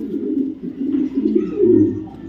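A racing pigeon cooing close by, low throaty rolling coos repeated over a couple of seconds, with no talk.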